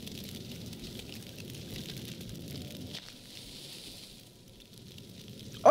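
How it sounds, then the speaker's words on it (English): Fire pits burning in the video game Dream Of The Blood Moon give off a steady, close crackling hiss that softens midway, then a short loud burst cuts in at the very end. "There's so much fire here."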